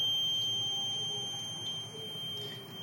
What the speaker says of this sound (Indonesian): kompornya itu mati dan buzzer akan menyala